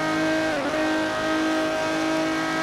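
A monster truck engine in Forza Horizon 4 roars loudly and holds a steady revving drone, dipping briefly as a gear shifts, then climbing back to a sustained high whine.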